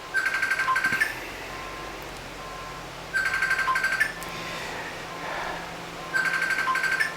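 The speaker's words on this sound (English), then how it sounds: "Someone is ringing, but I'm not going to answer" A telephone rings in three repeated bursts of bright, warbling tones about three seconds apart, moderately loud against a quiet room with no talk.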